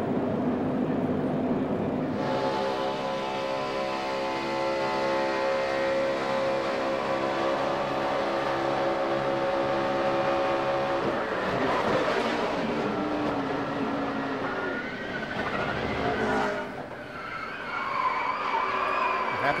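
NASCAR stock cars at Talladega in the 2011 Good Sam Club 500 roar together in a loud, steady pack drone that shifts in pitch as they pass, without any talk over it.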